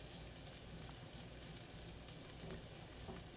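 Tempeh frying in hot coconut oil in a pan for a salad with goat cheese, giving a faint, even hiss that stays constant throughout.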